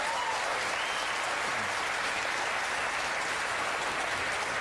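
A television studio audience breaks into applause at a mention of executions in Texas, a steady broadband wash of clapping that holds evenly throughout without voices.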